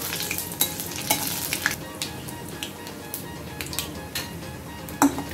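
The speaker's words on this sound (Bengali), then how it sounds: "সর্ষের তেল দিলাম, তেল গরম হয়ে গেছে, শুকনো লঙ্কা পাঁচ ফোড়ন দিয়ে দিলাম" Dry red chillies and panch phoron crackle and sizzle in hot mustard oil, with a dense close spitting hiss, repeated stirring scrapes and an occasional metallic knock of a utensil on the pan. Nobody speaks.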